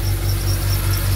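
A BMW car engine idles steadily after an oil change, with a low, even hum and a faint high whine on top, continuous throughout.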